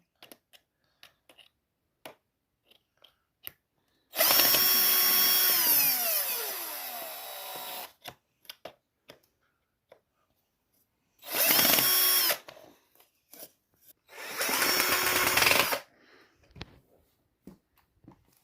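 A power drill drives a screw in three whirring bursts: a long one of about four seconds, then two shorter ones, each rising in pitch as the motor spins up. Scattered light clicks and taps fall between the bursts.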